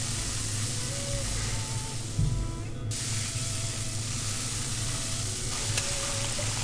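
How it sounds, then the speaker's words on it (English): Food stir-frying in a frying pan in the visual novel The Fruit of Grisaia, a continuous sizzling hiss with faint scraping, steady and fairly close. "she vigorously clatters it around the frying pan, messily stir-frying the food"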